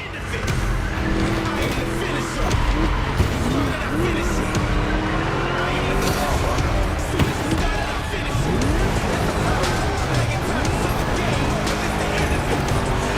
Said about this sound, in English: Just listen to that V8 like a chonky, down-tuned guitar riff.